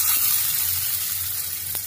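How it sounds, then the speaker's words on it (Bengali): Potato piyaju fritters frying in hot oil over a low gas flame give off a dense, steady sizzle that stays close and loud for the whole brief moment. "গ্যাসটাকে কম করে এক এক করে দিয়ে ভেজে নেব।"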